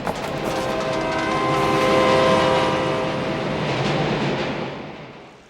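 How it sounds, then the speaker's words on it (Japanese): A New York subway train rumbles past loudly and close in a tunnel, its roar swelling and then fading, with a faint high whine above the rumble. "電車だ。"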